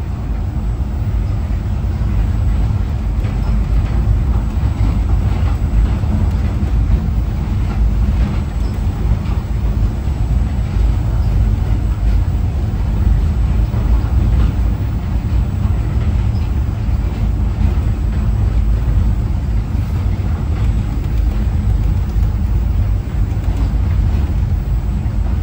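Interior of a moving Moscow monorail train, with a loud, steady low rumble and constant rolling drone throughout, with no clear breaks.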